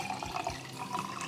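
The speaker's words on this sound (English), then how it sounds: "we're going to pour it into the mason jar now" Thin rice cake batter pours into a mason jar as a soft, continuous liquid trickle and splash, faint and close, lasting barely more than a second.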